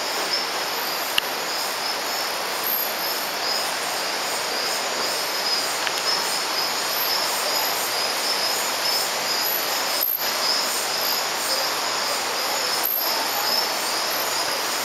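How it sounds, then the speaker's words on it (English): Loud nighttime rainforest along Rio Claro, Colombia, heard from an open-air cabana: a dense, continuous chorus of high insect trilling and buzzing with occasional sharper chirps, steady throughout with no talking. "You can hear how loud the forest is."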